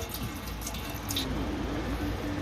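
Coolant trickles slowly out of a 2006 Jetta TDI engine into a catch bin during a timing belt job, a faint, steady watery drip and splash.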